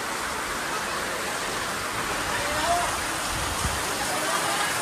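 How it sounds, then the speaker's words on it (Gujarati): Heavy, fast rain pours down steadily at a Dashama temple in Minavada, a dense continuous wash of drops and running water close by with no pauses. "જો તો ખરા અરે યાર બહુ ફાસ્ટ વરસાદ ચાલુ છે."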